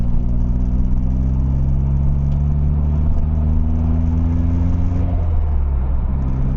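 A turbocharged Ford Capri drives along the road with its engine recently lashed back to its mounts. It makes a loud, steady low engine drone with a constant hum of road noise, and the pitch shifts slightly near the end.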